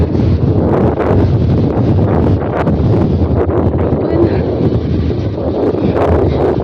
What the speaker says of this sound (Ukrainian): Вітер, але вітер гарячий, 30 градусів тепла